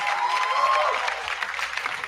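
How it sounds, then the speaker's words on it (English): An audience applauds for a round, steady clapping that keeps a fairly even level from start to finish. "can we have a big round of applause?"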